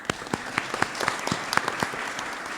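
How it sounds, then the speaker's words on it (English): Sparse, uneven clapping from a small morning forum audience, distinct individual claps close by rather than a roaring crowd, lasting a couple of seconds. "how about a big round of applause for our MC this morning?"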